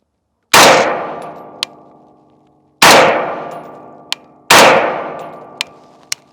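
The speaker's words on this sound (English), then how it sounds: "We're going to send 3 rounds downrange and see where we're hitting." A gas-operated rifle fires three single shots downrange at a 25-yard range, each a loud sharp crack with a long ringing decay and a faint distant impact ping after each one.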